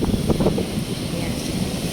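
Wind blows steadily along Legazpi Boulevard on an early morning walk, a continuous breathy rush with some microphone buffeting, while a voice talks briefly at the start.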